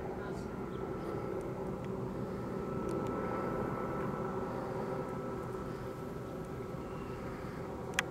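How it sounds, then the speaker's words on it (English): A Sacramento sheriff's helicopter drones steadily overhead in Carmichael, California, a constant low engine rumble that stays even throughout with no other sounds standing out. "There's a sheriff helicopter. Sacramento sheriff helicopter."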